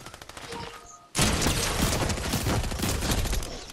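A mythical shotgun in Fortnite fires, starting with a sharp, loud blast after a moment of quieter noise and followed by a dense, continuous burst of gunfire and impacts.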